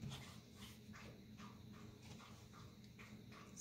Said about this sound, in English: My dog is drinking water and she's being very noisy over there.